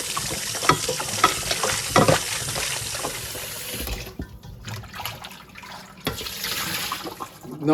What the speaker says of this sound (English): I'm going to wash my steak.